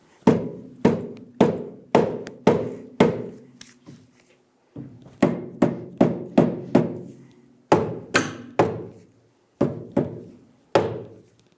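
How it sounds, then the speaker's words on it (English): A soft-face hammer strikes a metal steering knuckle on a 2000-2007 Ford Focus in quick bursts of a few blows each, sharp dull thuds separated by short pauses. "Use a soft face hammer to tap the knuckle down to meet the control arm."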